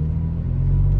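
A Toyota FJ Cruiser engine and muffler give a steady, close, low rumble for a moment while the truck pulls away, deep and continuous with no speech.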